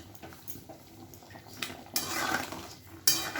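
Potato and pointed gourd curry is spooned from a pan into a bowl, with soft metallic scrapes and clinks of a utensil against cookware, ending in a sharper clink near the end.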